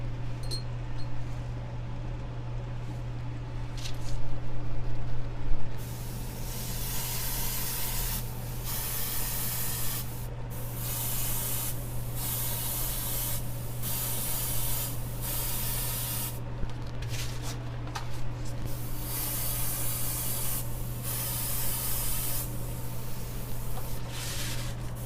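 Spray paint hisses onto an AMT 1/650 Klingon D7 model kit in bursts of steady spraying separated by short pauses, close and fairly loud over a constant low hum.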